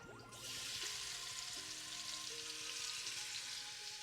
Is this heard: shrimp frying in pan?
yes